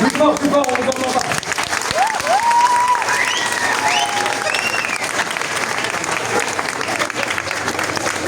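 Louder applause rises from the audience at a stage hypnosis show, thick continuous clapping over several seconds, while a voice speaks over it near the start.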